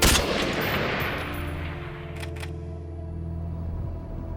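A rifle shot fired from the trunk of a car, a loud booming report at the start followed by a long low rumbling echo and steady background hum, with no voices.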